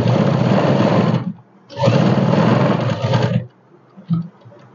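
A sewing machine stitching the neckline of a ladies suit runs loud and close in two steady whirring bursts separated by a brief pause, then stops, leaving a few small clicks and handling noises.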